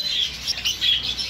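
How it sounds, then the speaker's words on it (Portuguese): Female English budgerigars for sale at an agricultural supply shop give a soft, continuous twittering of high chirps with no voices. "Fêmeas de periquito inglês."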